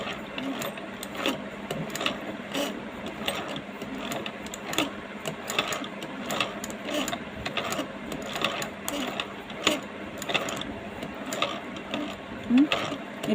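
Sewing machine stitching scrap cloth while its wheel is turned slowly by hand, with close, rhythmic mechanical clicks and ratcheting ticks repeating steadily, fairly quiet, and with no talk.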